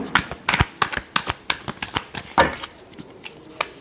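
Tarot cards being shuffled during a reading: a rapid series of crisp riffling and flicking bursts, loud and close, repeating in an uneven rhythm with no talk over it.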